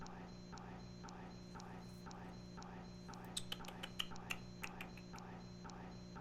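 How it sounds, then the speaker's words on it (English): A faint electronic beep repeats at a steady rhythm against a low hum, with a few sharp clicks partway through. "Are you guys getting that annoying beeping sound?"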